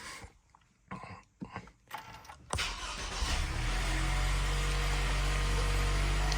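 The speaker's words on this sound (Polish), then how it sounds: "Odpalam silnik." A Lexus NX300 engine cranks and fires after a few quiet rustles and knocks, then settles into a steady, close idle hum that continues to the end.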